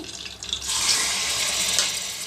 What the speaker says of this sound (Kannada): ಮಟನ್ನು ಚೆನ್ನಾಗಿ ಒಂದು ಮೂರು ನಾಲ್ಕು ಸಾರಿ ಚೆನ್ನಾಗಿ ತೊಳಿಬೇಕು